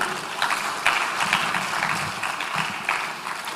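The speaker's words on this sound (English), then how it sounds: "Please, a round of applause for him." An audience at a ceremony at Manhyia Palace applauds after a keynote by the palace museum director, a dense, steady wash of clapping held at moderate volume through the whole stretch, with no voices over it.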